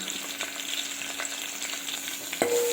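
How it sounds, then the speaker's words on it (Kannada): Mustard seeds, garlic, red chillies and curry leaves crackle and sizzle in hot oil, a continuous fizzing with small popping bursts and a faint metallic clink near the end. "ಒಗ್ಗರಣೆಗೆ ಸಾಸಿವೆ ಬೆಳ್ಳುಳ್ಳಿ ರೆಡ್ ಚಿಲ್ಲಿ ಮತ್ತು ಕರ್ಬೇವಿನ ಸೊಪ್ಪು"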